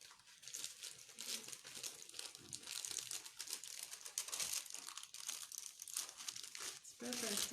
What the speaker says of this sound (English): So slowly we'll remove the paper.